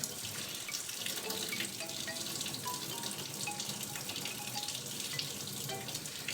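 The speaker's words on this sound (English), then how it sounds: "Put your egg in a cup and then submerge it in warm water. So I use tap warm water." Warm tap water runs steadily from a faucet into a cup where an egg sits submerged, a continuous close splashing hiss with no talk over it.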